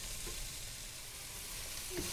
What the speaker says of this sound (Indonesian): tumis sampai kolnya layu dan diangkat